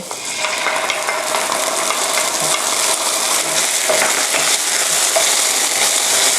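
Garlic and shiitake mushrooms being stir-fried with oyster sauce in a wok, giving a loud, continuous sizzle with scraping stirs and small clinks throughout, and no talking.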